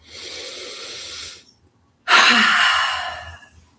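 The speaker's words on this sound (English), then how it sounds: "Exhale it out." Two long breaths from a person during a morning yoga breathing exercise: a steady airy exhale, a short pause, then a louder, rougher sighing exhale that fades out, close and with no talking.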